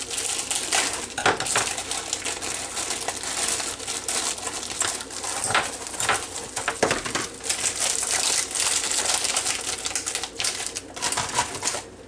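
A knife chops sliced Hillshire Farm deli turkey on a cutting board. It makes dense, continuous, close tapping and clattering with crinkly packaging sounds, and no talk.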